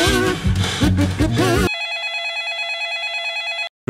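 A telephone rings with repeated, evenly pulsing electronic trills that take over after a burst of music, then cut off abruptly as the call is answered.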